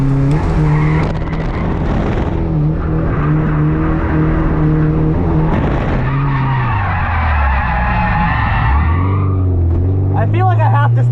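A drift car on a track runs at full throttle with its engine droning loud and near, tires squealing continuously as it slides through corners, engine pitch dropping and climbing again toward the end.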